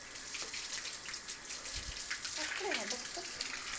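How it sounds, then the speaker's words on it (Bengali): Water runs steadily from a tap into a container, a constant close splashing hiss lasting throughout, while voices talk faintly over it. "জল ভরো, ভর্তি করো ওটাতে।"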